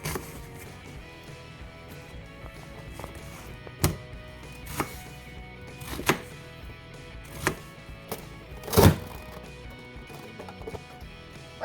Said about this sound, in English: Shredding up the vegetables nice and small